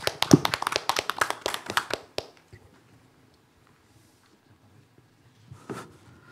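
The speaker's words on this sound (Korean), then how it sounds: "큰 박수로 맞이해 주시기 바랍니다." At a Korean academic seminar on Song Sang-hyeon, a seated audience welcomes a guest speaker with about two seconds of brisk, close clapping that breaks off sharply into near silence. A faint stray sound follows near the end.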